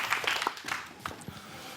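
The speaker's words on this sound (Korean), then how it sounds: "여러분 박수 한번 주십시오" A small audience gives scattered, uneven hand claps after an exercise demonstration in a lecture hall. The applause is fairly quiet and thins out quickly.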